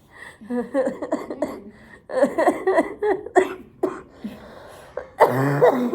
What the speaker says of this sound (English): then laughing makes me cough more